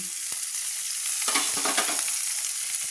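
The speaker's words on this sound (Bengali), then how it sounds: "এবার আমি গোটা কাঁচা লঙ্কাগুলো দিয়ে দিলাম" Whole green chilies sizzle and crackle in hot oil in a pan, a steady bright frying hiss with a few stirring scrapes, close up and with no voices.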